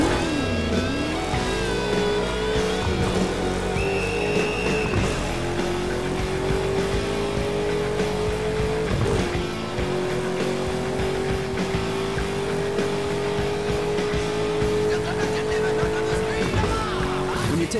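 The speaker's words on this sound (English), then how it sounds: "Hold the accelerator to fire up the engine." A car's engine revs and its tires squeal in the racing video game Burnout Paradise, a loud steady engine drone holding and rising across the whole stretch with skidding squeals over it.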